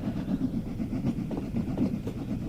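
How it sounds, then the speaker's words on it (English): Mark 1 coach wheels click over rail joints in Train Sim World 2, a steady rhythmic clickety-clack with a low rumble beneath, moderately loud and uninterrupted. "I think they're different track joint sounds to what we've got on West Somerset Railway with the Mark 1s"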